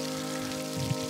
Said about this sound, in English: Pretty much non-stop rain.